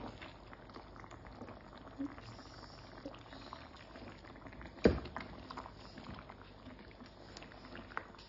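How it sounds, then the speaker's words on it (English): A pot of chicken curry bubbles and simmers softly close by, with gentle popping and a few small knocks and clicks scattered through the quiet. "so it's still bubbling away"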